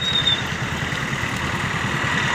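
A Honda CB Shine motorcycle engine runs steadily at a low, even throb, close by and continuous, heard on a colony road at the start of a ride to Tirupati.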